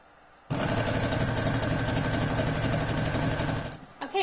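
A sewing machine runs steadily for about three seconds as it stitches the two raw edges of a fabric pouch, with a smooth, even motor whir and rapid needle rhythm starting abruptly and stopping cleanly.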